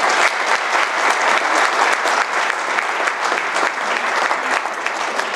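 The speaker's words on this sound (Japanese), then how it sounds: "全体の拍手で感謝に変えたいと思います" Guests at a New Year political party break into dense, sustained applause that fills the room evenly from start to finish, with no voices standing out.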